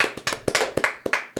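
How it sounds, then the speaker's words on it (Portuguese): A handful of people in a podcast studio clap for a jiu-jitsu guest. The claps are sharp, close and irregular and come in quick bursts for a moment. "Uma salva de palmas para esse cidadão"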